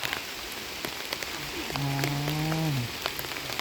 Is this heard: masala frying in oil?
no